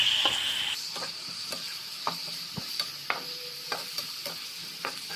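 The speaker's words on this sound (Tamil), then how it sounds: "இதுவே ரொம்ப வதக்கணும்னு இல்லை, கொஞ்சமாக வதக்கினா போதும்." A handful of drumstick leaves is stirred in a hot pan, with soft sizzling under irregular scrapes and taps of the spatula against the metal, close and fairly quiet.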